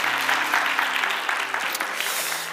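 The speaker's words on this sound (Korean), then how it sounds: "우리 같이 이 시간 뜨거운 박수로 한번 환영하겠습니다." A church youth-service congregation applauds in welcome, a dense, steady wash of many hands clapping throughout, fairly loud and close, with a faint low hum beneath.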